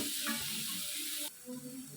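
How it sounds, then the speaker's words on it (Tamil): Chopped shallots sautéing in a pan for a beetroot fry, a steady close sizzle with faint stirring scrapes, the hiss dropping slightly partway through. "நம்ம நறுக்கி வச்சுருக்க உள்ளி எடுத்து போட்டு வதக்கணும்"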